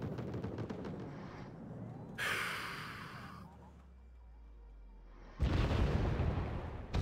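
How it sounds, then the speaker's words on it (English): Bombs exploding in the Wargame: Red Dragon strategy game make deep, heavy booms with a rumbling tail and bursts of debris-like noise, loud and close, between stretches of quieter battle ambience. "One of the bombs got it."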